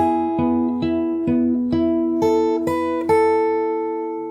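Fingerstyle acoustic guitar plays a song, picking a melody over held chords in about eight evenly spaced plucked attacks that ring into each other, close and clear with no voice.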